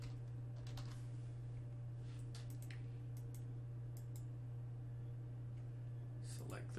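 A computer keyboard gives a short run of light, quick key clicks over a steady electrical hum, spelling out one word.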